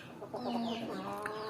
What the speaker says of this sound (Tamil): நம்ம ஜாவா சேவல், அதுக்கப்புறம் பார்த்திங்கன்னா 3 பெட்டை இருக்குது